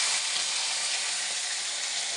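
Cumin and ginger paste frying in hot oil for a banana flower dish, a steady broadband sizzle that stays close and even throughout with no voices over it.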